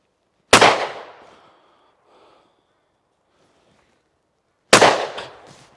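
A Yildiz Pro Black hybrid sporting shotgun fires 28 gram competition cartridges on a clay shoot: two loud, sharp reports several seconds apart, each decaying quickly, with a quiet gap between.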